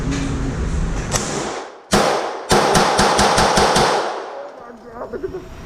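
Pistol fire at an indoor gun range, 9mm and .40 caliber handguns: one loud crack, then a rapid string of about seven close, punchy shots, with faint talk before and after.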